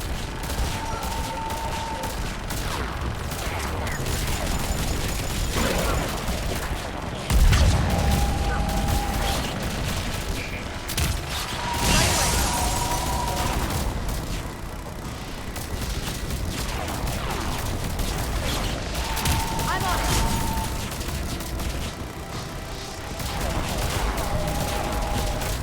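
Sustained sci-fi gunfire in Mass Effect 3 on Thessia, a steady battle din of overlapping shots with a heavier blast near the middle, under intermittent game voices.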